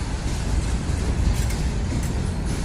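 Norfolk Southern freight trains passing, a steady, dense rumble of rolling cars and wheels on track, loud and continuous for the short clip.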